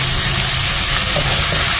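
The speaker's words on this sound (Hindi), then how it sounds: "अब इसको मैं 3 से 4 मिनट तक अच्छी तरह घी के साथ पका लूंगी" Grated carrots, a kilo of them, cook in a tablespoon of desi ghee in a wok for carrot kheer, giving a steady, loud sizzle and hiss that runs unbroken, with no talking over it.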